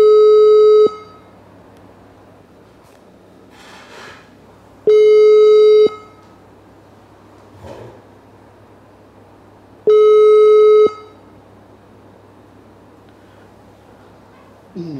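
Three long, loud steady ringback tones repeat at an even interval with silent gaps between, a phone call being placed to a police officer; faint rustling fills the pauses.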